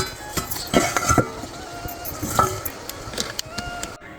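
A steel bowl clinks and scrapes against a kadhai as it is lifted after steaming ukadi modak, with several sharp metallic knocks and rattles spread over a few seconds, close and fairly loud, with light background noise.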